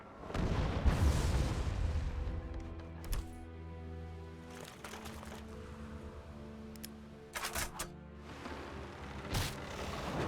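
Cannon fire in the fantasy strategy game Warlock 2: a loud booming blast opens, followed by a rumbling low tail with a few sharper cracks and later bursts, no voices.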